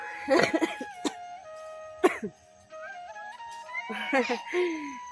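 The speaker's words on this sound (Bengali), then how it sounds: "কাশি হয়েছে" Several short, harsh coughs in quick bursts, close by, with tonal background sounds between them.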